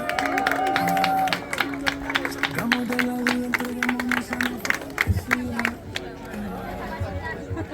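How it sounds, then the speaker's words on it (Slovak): An audience at a children's closing ceremony claps under a background of crowd chatter, with scattered sharp hand claps and general murmuring throughout. "všetci poprosím potlesk k deťom"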